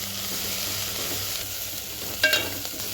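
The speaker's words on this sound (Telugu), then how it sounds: "కొంచెం ఎర్రగా ఎంపుకోవాలి" Onion pieces with green chillies, coriander, mint and curry leaves frying in a pan, a steady soft sizzle with stirring scrapes and a brief louder clatter near the end, no talk.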